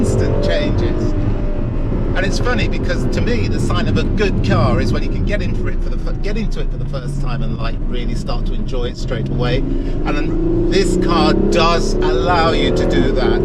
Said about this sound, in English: You can hear the engine, that V12 engine screaming in the background